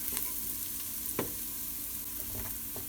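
Garlic and vegetables sauté in a pot, giving a quiet, steady sizzle with a few soft scrapes and stirring knocks scattered through it.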